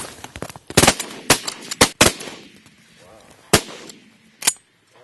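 Shotgun blasts at mallards during a North Dakota pothole duck hunt: several loud, sharp reports fired in quick succession outdoors, with two more spaced shots following, and brief voices in between.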